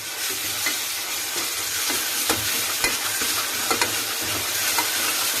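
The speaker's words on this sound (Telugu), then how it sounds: "అల్లం వెల్లుల్లి కూడా పచ్చివాసన అయ్యేంత వరకు వేగిద్దాం" Ginger, garlic and onion fry in hot oil for mutton curry, a dense, steady sizzle with occasional stirring scrapes and pops, close and loud, no voices.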